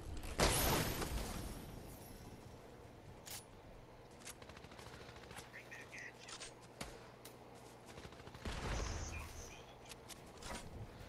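Gunshots in Fortnite crack sporadically, a few sharp reports scattered over a quiet background with faint ambient chirps, some shots nearer and louder than others.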